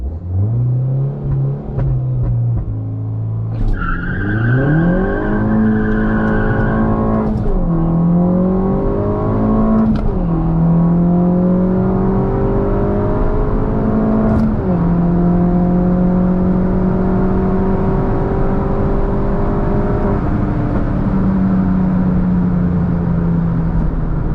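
A car, a hybrid-turbo R56 Mini Cooper S or 1.8T Mk2 GTI, accelerates hard on a quarter-mile drag run, its engine screaming upward through several gear changes with brief dips between shifts, loud and sustained throughout.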